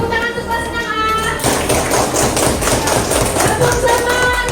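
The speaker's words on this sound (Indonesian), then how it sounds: "tepuk tangan untuk kelas 6A" A primary school class claps hands together for class 6A, a burst of brisk group clapping starting partway through, loud and close with some voices mixed in.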